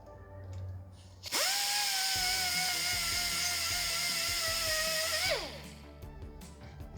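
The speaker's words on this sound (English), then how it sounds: "I'm just using a fine disc on this now to clean it all up and get rid of all the burrs" A power tool fitted with a fine disc whines steadily for about four seconds as it grinds burrs off a homemade Honda Fit GE8 spoiler tilt riser, spinning up sharply and then winding down, close and loud with no talk.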